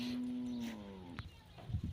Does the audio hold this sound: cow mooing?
yes